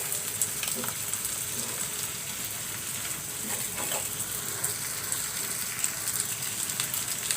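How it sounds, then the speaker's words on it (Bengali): Fish roe frying in a pan crackles with a dense, continuous sizzle and spatter, loud and close throughout, with small pops scattered over the steady hiss. "মাছের ডিমগুলো একটু ভেজে নেব আমি"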